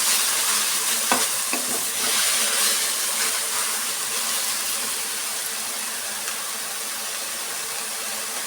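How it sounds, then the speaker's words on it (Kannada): Half a bunch of coriander leaves frying and being stirred in oil, giving a dense continuous sizzle with a few scraping stirs early on and no talk. "ಒಂದು ಅರ್ಧ ಕಟ್ಟಷ್ಟು ಕೊತ್ತಂಬರಿ ಸೊಪ್ಪನ್ನು ಆಯಿಲಲ್ಲಿ ಚೆನ್ನಾಗಿ ಫ್ರೈ ಮಾಡ್ಕೊಂಡ್ಬಿಡ್ಬೇಕು."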